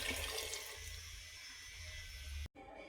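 Water being poured over ripe plantains in a cooking pot, a steady close rushing splash that continues for over two seconds, then briefly cuts off before a quieter tail.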